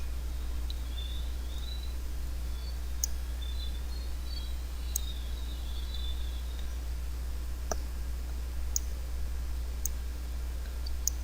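Computer mouse clicking while adjusting photo exposure in RawTherapee, a few faint sparse clicks spaced apart over a steady low electrical hum in a quiet room.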